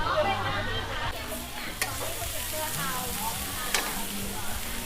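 Fried mussel pancake sizzles on a griddle at a floating-market stall, a continuous hiss with occasional metal spatula clinks, while crowd babble murmurs in the background.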